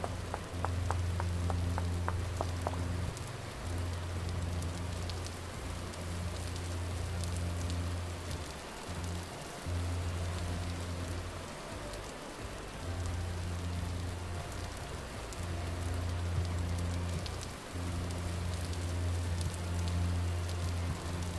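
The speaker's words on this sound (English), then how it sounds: "Speaking of, it's raining right now" Steady rain falling in the survival video game Vintage Story, a constant soft hiss heard alone, with a low rhythmic game hum pulsing underneath.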